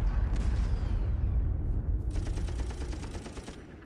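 Rapid bursts of automatic gunfire from Warhammer 40k weapons in ARMA 3, a dense rattling volley followed by a second sustained stream of rapid shots over rumbling booms, loud and continuous.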